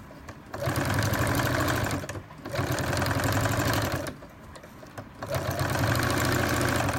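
A sewing machine runs in three bursts while stitching and backstitching a fabric crossbody bag seam, each run a steady, close mechanical whir separated by brief pauses.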